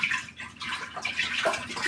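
Refrigerated milk pours into an Instant Pot's metal pot for making yogurt, a close gurgling splash that swells and trails off in uneven glugs.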